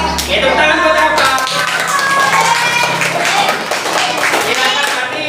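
Classroom hand clapping from a group of students during a robotics lesson, a brisk cluster of claps mixed with taps and shuffling, with voices chattering underneath.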